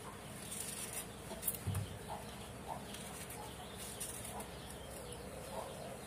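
Scattered soft clucks from several chickens nearby, irregular and fairly quiet, over a low ambient background.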